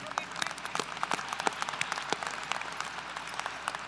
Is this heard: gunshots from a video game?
no